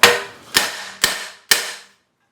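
Sheet metal is hammered into a socket used as a die to form a dimple: four sharp, ringing metallic strikes about half a second apart, each decaying quickly, loud and close, then silence.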